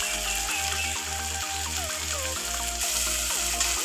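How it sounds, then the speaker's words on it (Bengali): Water poured into a pan of frying spice paste, a steady hiss and sizzle of liquid meeting hot oil, continuous and fairly loud, over a regular low pulsing hum in the background. "একটু জল দিব।"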